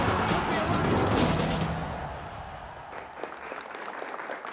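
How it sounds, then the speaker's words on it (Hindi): Studio audience applause on a Hindi-language comedy show, a broad burst of clapping that swells loudly for about two seconds, then thins and fades beneath a quieter crowd murmur. "ताली हो जाइए।"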